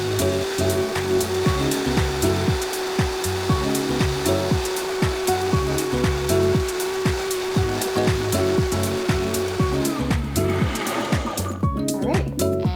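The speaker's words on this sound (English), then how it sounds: "suck those ingredients down to the blades and really blend as efficiently as it possibly can" A countertop blender runs loud and steady, churning soy sauce, honey, sesame oil and solids into a smooth mushroom bulgogi sauce, then winds down at the end with clattering.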